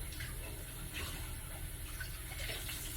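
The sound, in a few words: rinsing a pot lid under running tap water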